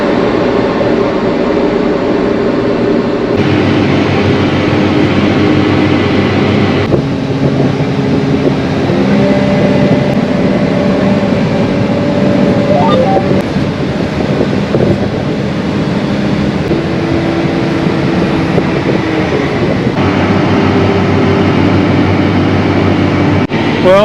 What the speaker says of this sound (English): I think this tractor might be broke